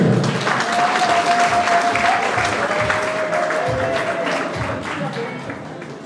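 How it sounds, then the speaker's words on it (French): Guests at a luxury wedding break into sustained, loud applause, dense clapping from a crowd with cheering and voices mixed in, fading slightly toward the end. "Acclamez pour la cité du cœur"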